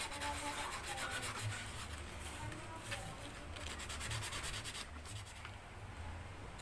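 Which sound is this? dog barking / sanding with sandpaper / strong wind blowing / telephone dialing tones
sanding with sandpaper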